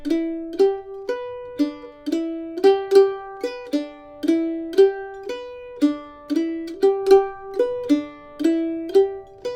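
Solo mandolin picking a son cubano tumbao pattern, a repeating down-down-up figure of plucked notes in a steady syncopated rhythm, clear and close with no talking.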